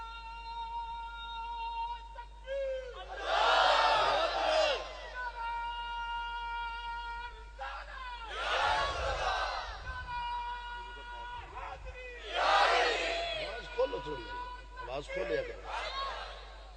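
At a Milad gathering honoring the Prophet, a crowd shouts slogans back in three loud, swelling bursts, each separated by a lone voice leading the chant over an amplified sound system.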